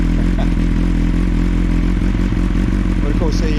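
A Kawasaki ZX9R inline-four motorcycle engine runs steadily at close range, a loud continuous low drone with some clattering, while talk is heard over it.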